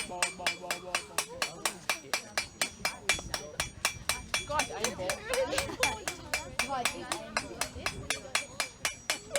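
Rapid, steady hammer strikes ringing on metal on an anvil at a medieval fair forge, a fast even rhythm of sharp clanks close by, with a brief spoken exclamation partway through.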